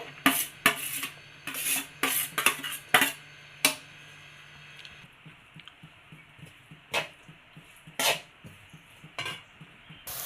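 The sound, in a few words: carrot and beetroot sautéed in ghee in a pan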